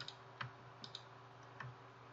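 Mouse clicks made while holding the control key to select rows in the Sublime Text editor, a handful of faint, sharp ticks spaced irregularly over quiet background hiss.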